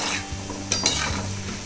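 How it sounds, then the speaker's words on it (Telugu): Chakkarapara snacks fry in hot oil with a steady close sizzle, broken by a couple of brief stirring clinks, no talk. "వీటిని వేయించుకుందాం."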